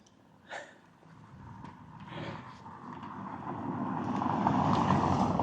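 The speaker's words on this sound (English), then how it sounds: "There's a bloody car coming down here." A car comes down a road along a seaside walking route, its engine and tyre noise swelling gradually from far to near, with faint background activity and a brief sharp sound early on.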